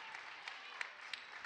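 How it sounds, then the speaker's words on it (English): A crowd at a women's college basketball game between Case Western Reserve and Carnegie Mellon applauds and cheers for a departing player, a faint, steady wash of clapping heard from a distance with a few sharper claps poking through. "The crowd stands and cheers for her."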